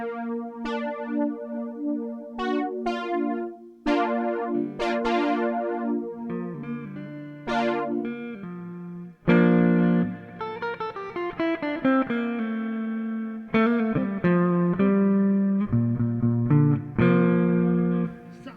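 An electric guitar runs through effects with distortion, chorus and echo, playing chords and single-note lines that are slightly out of tune. The notes ring and sustain in clear, separate phrases with no voices.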